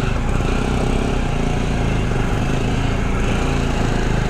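A Royal Enfield Chrome 500 motorcycle engine pulling in first gear on a rough off-road trail, giving a loud, close, continuous thumping drone that holds steady without a break.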